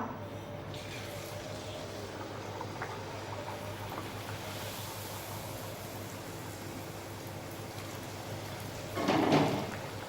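Hot oil sizzles steadily with a constant crackling hiss as wheat-flour puris deep-fry, swelling into a louder bubbling burst near the end as something drops in.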